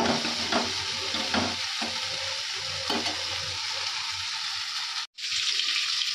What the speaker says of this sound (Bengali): এখন তেলের মধ্যে পেঁয়াজ লঙ্কা দিয়ে দিয়েছি 5 ফোড়ন চচ্চড়ির জন্য